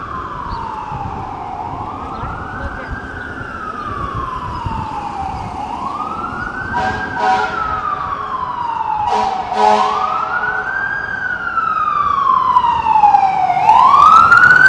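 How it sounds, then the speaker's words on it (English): Emergency vehicle sirens wail on a rainy Toronto street near John Street and King West, loud rising and falling tones sweeping repeatedly over steady traffic noise and growing nearer toward the end. "For those noticing, the sirens might have been a wee bit"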